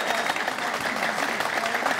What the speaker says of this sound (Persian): میثم یوسفیت با تشویق باید روبرو شود